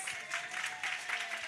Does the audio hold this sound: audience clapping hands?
yes